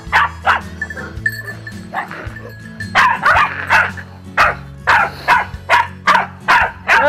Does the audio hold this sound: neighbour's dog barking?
yes